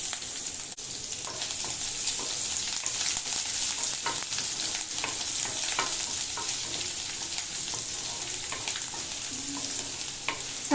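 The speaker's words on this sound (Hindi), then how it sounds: "चिकन चिली बनाने के लिए पहले अदरक, लहसुन और हरी मिर्च सबको फ्राई कर ले रहे हैं।" Ginger, garlic and green chilli fry in a pan for chilli chicken, giving a steady, close hiss of sizzling oil with scattered pops and occasional stirring scrapes throughout.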